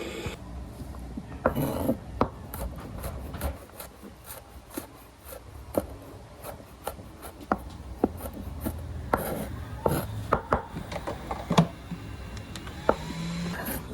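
Knife chopping ingredients for lomi on a cutting board, a series of sharp, irregular taps close by, some louder than others, spaced unevenly over a quiet kitchen background.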